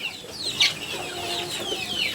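Native desi hens near a laying basket give soft, scattered clucks and chirps at close range, with a faint wing flutter and no talk.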